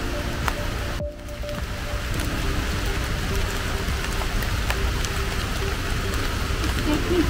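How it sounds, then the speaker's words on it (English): Steady rain falls in a hillside nature park, a dense continuous hiss that persists throughout after a brief dip near the start, with no talking. "It's raining now"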